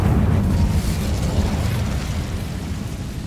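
A fire spell cast in the video game Hogwarts Legacy lands as a deep, rumbling whoosh of flame, a steady low roar sustained for about three seconds without any talking.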